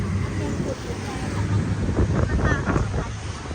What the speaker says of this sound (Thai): ลมพัดไปแบบเร็วเลยนะ